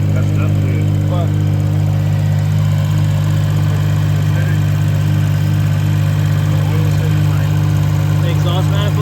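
A broken Suzuki Cappuccino's engine idles with a loud, steady low drone and strong harmonic hum, holding close and continuous throughout.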